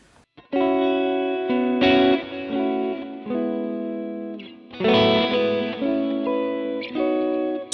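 An electric guitar through a Helix VOX AC30 amp model on the bright channel, with no overdrive pedal, playing bright ringing chords and single notes in separate phrases with pauses, heard alone.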